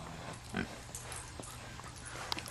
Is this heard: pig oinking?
yes